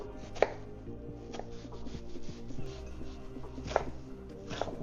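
A knife chops half an onion on a cutting board, with irregular crisp knocks and a few sharper thuds, close and fairly quiet; no speech.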